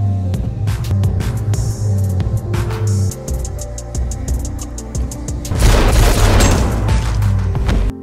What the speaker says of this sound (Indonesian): Di sana, keduanya terlibat dalam baku tembak.